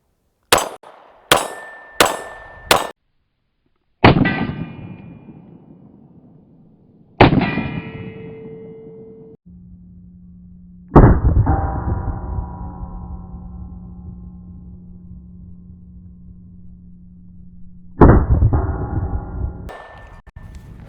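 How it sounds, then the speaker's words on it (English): Four sharp 9mm shots from a Masada pistol ring off a steel target, each crack followed by a metallic clang; the first bursts come rapidly in a row, then several louder, longer ringing impacts decay slowly with a steady hum between them. "We're going to shoot a few rounds just so you can show that I'm actually shooting it."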